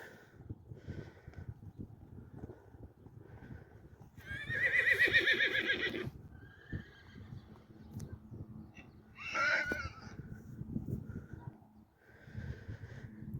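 A horse neighs loudly once, then gives a shorter whinny a few seconds later, over quiet shuffling and faint background sounds.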